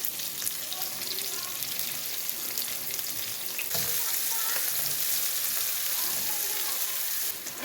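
Onions sizzle and crackle loudly in hot oil, a continuous dense frying hiss with occasional stirring clinks, close up.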